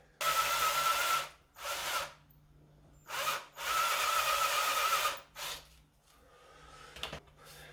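A power drill whirs through a drilling guide while building a 1979 Lotus Esprit, in several bursts, short spins then longer runs, loud and close, with brief pauses between each burst.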